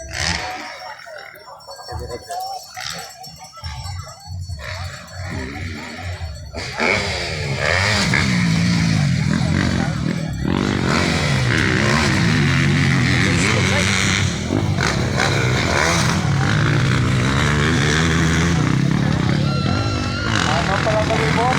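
Motocross bikes race at an event in Igbaras, a Yamaha leading a KTM, their engines revving and roaring loudly with rising and falling pitch, building from softer passes to a sustained close roar, with a commentator talking over them.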